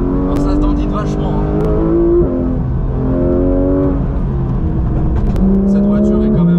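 A race car on semi-slick tyres front and rear, driven in cold weather, heard loud and close from the cabin as the engine drone climbs, drops at each gear change and climbs again.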